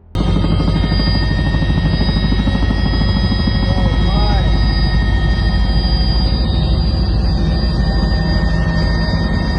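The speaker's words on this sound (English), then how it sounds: "A helicopter flying over a glacier captured this unique sight." A loud, steady helicopter drone with rapid rotor thumping, close by and continuous over a glacier, with a voice talking over it.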